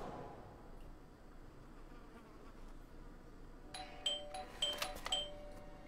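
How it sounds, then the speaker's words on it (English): A doorbell chimes in the occult murder-mystery video game Blues and Bullets, a few bright, ringing tones arriving in quick succession near the end after a stretch of quiet ambient hum, with no one speaking. "I thought I should use the doorbell so I wouldn't startle you."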